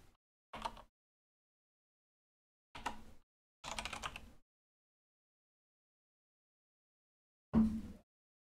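Short bursts of keyboard typing at close range during an Ethernet testing session, four separate clusters of rapid keystrokes separated by silence, the last burst slightly heavier.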